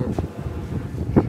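Gusty wind buffets the microphone outdoors on a windy day while a fence is put up, a steady low rumble with brief stronger gusts and no talk.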